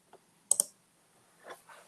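A computer mouse gives a quick double click while opening a thread on an online forum, followed by faint, soft clicks in an otherwise quiet room.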